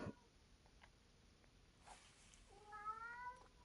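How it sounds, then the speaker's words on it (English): Cat meowing indoors, a single faint drawn-out meow near the end, rising then falling, over quiet room background with a few soft knocks. "There goes my cat."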